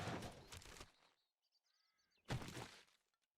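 Birds in the survival game 7 Days to Die give two harsh, raspy caws separated by a short pause, with faint high chirps in between. The sounds are quiet overall.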